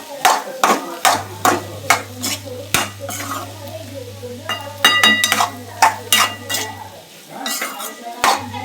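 Potatoes and masala being stir-fried in a pan, a spatula clanking and scraping against the metal in brisk uneven strokes over a faint sizzle and low steady hum, close by.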